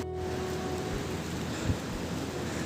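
Steady heavy rain pours down in a hill forest, a dense continuous hiss throughout with a brief louder patter near the middle, no voices.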